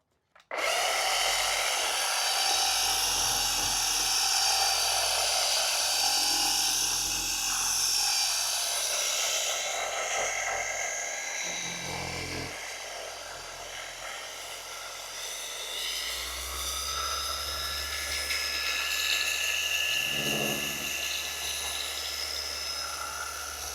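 A Rupes HLR75 polisher set to speed 3 works car paint with a loud, steady, high whine that runs unbroken for the whole stretch and shifts slightly in pitch as it moves across the panel.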